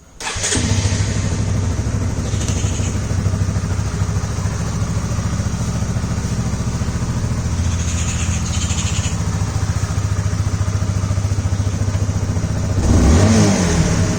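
A Honda CBR 150R motorcycle engine turns over and settles into a loud, close, steady idle, with a slight rise in revs near the end and no talking.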